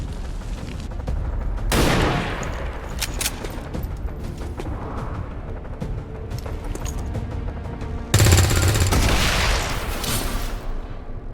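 Gunfire in XCOM 2 crackles in two louder bursts with scattered shots and booming impacts between them, set against a steady background rumble.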